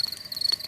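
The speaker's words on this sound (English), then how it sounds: "That is the sound of crickets chirping." Crickets chirp in a cartoon nature scene outdoors at night by a campfire, a faint, steady high trill with quick pulsing, heard alone.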